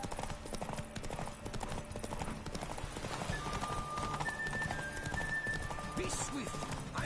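A horse galloping in The Witcher 3: Wild Hunt video game with steady, fast clip-clop hoofbeats throughout, under game music and spoken lines, with a brief whinny.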